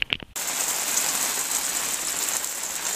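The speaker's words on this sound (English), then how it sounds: "Man, it started raining really hard." Heavy rain pours down hard outside a truck on Labor Day, a dense, steady hiss of drumming water after a brief burst of clicks at the start.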